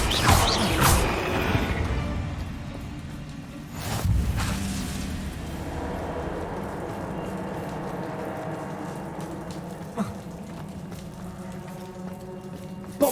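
In the Hogwarts Legacy video game, a Bombarda spell blasts apart a barrier: sharp crashing impacts near the start and again around four seconds, followed by rumbling, creaking debris and mechanical settling noises at moderate loudness.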